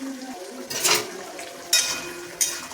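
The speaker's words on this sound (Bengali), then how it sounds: "মশলাটা দিয়ে দিলাম, ভালো করে কষিয়ে নেবো।" Spice masala for a vegetarian potato curry being stir-fried in a pan, with three short bursts of sizzling and spatula scraping against metal separated by quieter pauses, close and moderately loud.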